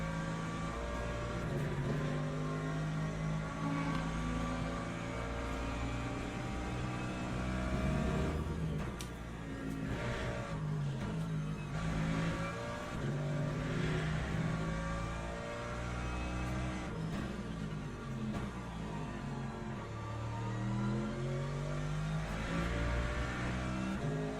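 At Imola in Le Mans Ultimate, a race car engine is held flat out. It gives a continuous loud, buzzing drone with shifting harmonics, other cars pass now and then, and a few brief gear-change breaks interrupt it.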